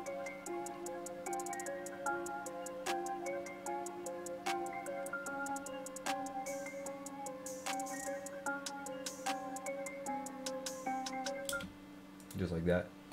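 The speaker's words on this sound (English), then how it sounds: "hi-hats, an open hat, a clap, and then a rim, and they all come" A programmed FL Studio drum pattern of ticking hi-hats with an open hat, clap and rim shot entering in succession, playing steadily at moderate volume over a sustained tonal backing.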